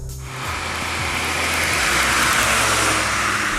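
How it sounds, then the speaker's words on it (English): Steady broadband road and tyre noise inside a moving Mazda 3, a constant loud hiss and rumble that swells slightly and holds without any voices. "it really has a lot more road noise than the Toyota"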